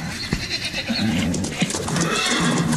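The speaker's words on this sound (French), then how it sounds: "Ce cheval n'est pas bien." A nervous horse at an auction neighs in short whinnies over a busy background, with a few thumps and faint stable noise.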